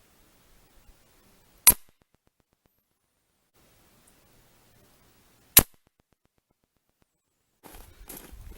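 A Crosman Shockwave .177 air rifle fires pellets from a tripod: two sharp, isolated cracks a few seconds apart in near silence, followed by faint handling rustle.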